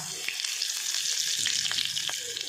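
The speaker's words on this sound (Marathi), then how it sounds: "आता लसूण चांगला परतवून घ्या आणि कढीपत्ता" Crushed garlic and curry leaves fry in hot oil with mustard and cumin seeds, giving a dense, continuous close sizzle and crackle with small pops and stirring.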